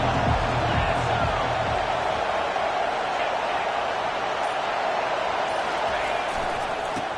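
A steady, dense stadium crowd roar fills a Utah vs Oklahoma matchup in the NCAA 25 football video game. The noise holds loud and unbroken throughout, like a packed stadium cheering without pause.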